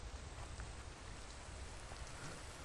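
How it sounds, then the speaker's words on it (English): Steady rain pours down in The Infected, a survival game played on PC, forming an even, dense, soft hiss of falling drops that stays constant and fairly quiet with no voices over it. "It's raining."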